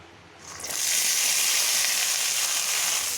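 Washed carrots drop into hot oil in a pan, and a loud, steady sizzle rises in under a second and then holds, close and continuous.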